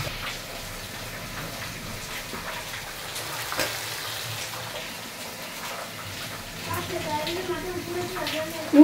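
Potatoes frying in hot oil alongside a fish curry base, a continuous low sizzle running steadily under intermittent speech.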